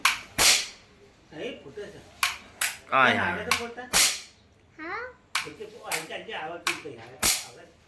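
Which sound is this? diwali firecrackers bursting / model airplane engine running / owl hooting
diwali firecrackers bursting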